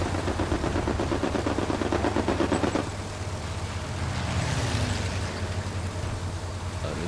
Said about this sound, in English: They sent a strafing gun at you.